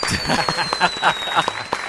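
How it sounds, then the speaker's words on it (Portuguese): A short bit of applause added as an editing effect in a podcast: scattered individual claps crackle over about two seconds, mixed with a faint steady tone and some crowd murmur. "coloque palmas e foguetes pra você aí"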